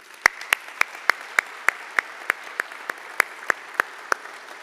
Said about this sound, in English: One more final round of applause for them,